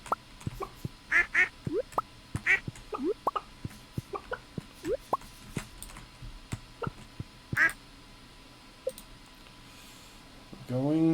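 Ducks in the Stardew Valley farming game quack in short, scattered calls at a moderate distance, mixed with soft clicks and plops, with a faint voice near the end.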